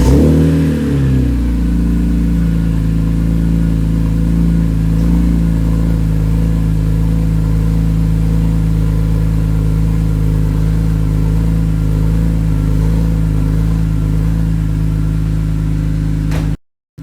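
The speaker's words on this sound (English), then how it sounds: "See how it starts, how it sounds." A BMW E46 M3 with a newly installed muffler cranks and fires up, then settles into a steady, loud, deep idle heard up close, with no talking.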